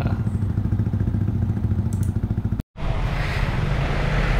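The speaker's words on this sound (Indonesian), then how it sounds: "Motor gue nah udah bisa nyala." A motorcycle engine running just after being started, a close, loud, rhythmic idle that cuts out briefly for a moment and then comes back steady.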